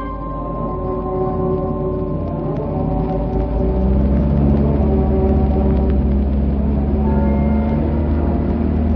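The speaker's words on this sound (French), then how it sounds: "La voiture fraye lentement son passage à travers le brouillard" A car engine rumbles low and steady as the vehicle creeps slowly through fog, a continuous muffled drone with shifting tonal hums, heard up close and alone in a radio drama.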